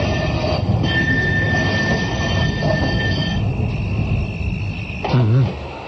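Staged train for a play about a train being stopped near Kakori station: a loud, continuous rumbling run with a thin, sustained wheel-squeal tone, ending in a sharp, wavering burst of noise.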